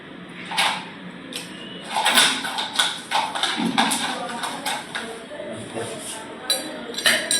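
Ice cube dropped into a drink glass while mixing a sugar and soda beverage in a hotel management class, with sharp clinks and glass taps amid people talking nearby.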